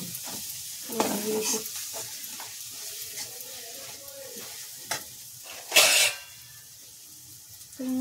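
Garlic for garlic rice (chitranna) fries in hot oil in a pan, giving a soft, continuous sizzle broken by a few stirring scrapes and one louder burst, while a voice speaks briefly.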